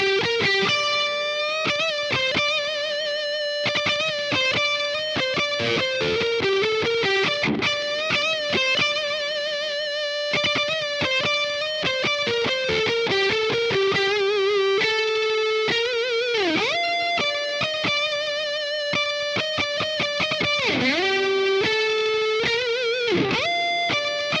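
An electric guitar on its middle pickup position plays a continuous run of clean, bright single notes and chords, steady and up close with no talking.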